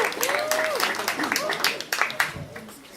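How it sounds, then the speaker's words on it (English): A spoken-word showcase audience claps to welcome a musician onstage, with scattered, fairly close hand claps running under a speaking voice for a few seconds. "Give him a round of applause"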